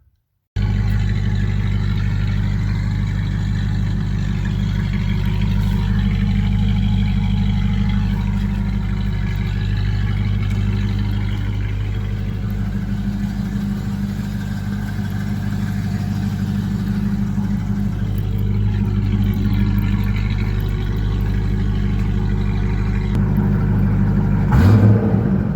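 A 1996 Land Rover Discovery engine with both mufflers replaced runs close and loud, a deep steady idle rumble with mild rises in revs, continuous throughout and free of talk.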